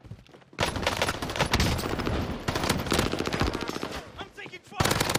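Dense, rapid automatic gunfire from the video game Call of Duty Warzone, with rattling bursts overlapping almost without a break over several seconds, loud and close, and a few brief gaps before the shooting resumes.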